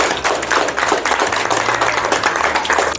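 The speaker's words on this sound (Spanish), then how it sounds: "Un fuerte aplauso para todos" A crowd at a health-center celebration for World Tuberculosis Day and Father's Day gives loud applause, with dense, steady clapping and some low thumps under it.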